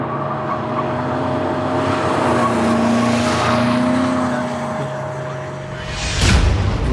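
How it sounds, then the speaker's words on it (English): BMW car drifting during a world record attempt, a loud steady engine drone with tyre roar and a slowly shifting pitch, ending in a brief louder burst as it passes close. "We have commenced drifting."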